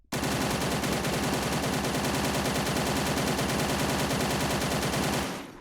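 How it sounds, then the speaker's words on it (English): A Dushka 12.7 mm heavy machine gun fires in ArmA 3, one loud continuous burst of rapid, evenly spaced shots lasting about five seconds before cutting off. "Now we have a Dusk machine gun, which is actually able to be disassembled too. Let's fire this first."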